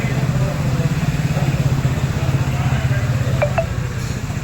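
A newly bought motorbike idles steadily just after starting, its low engine rumble running evenly throughout, with a couple of brief high chirps near the end.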